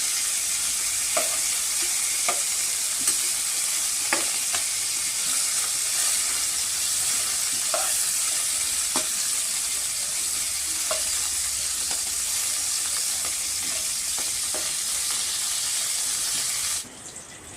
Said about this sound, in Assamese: এতিয়া মাংসখিনি এটুকুৰে ভাজি ল'লো